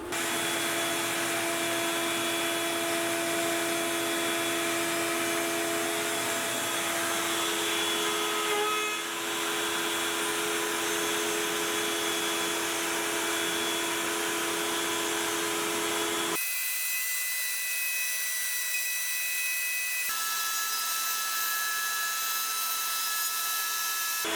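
A Onefinity CNC router surfaces a wooden game board with a continuous, steady high-pitched spindle whine and cutting hiss, which drops abruptly to a quieter hum near the end.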